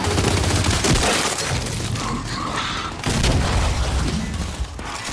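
Gunfire from a gun in the video game Gears 5: dense, loud bursts of shots and booms crowd the whole stretch, with a heavier volley near the end.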